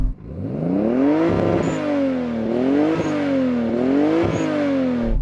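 A Toyota Supra engine revs repeatedly, pitch climbing and dropping in several rising waves, loud and close with no talking.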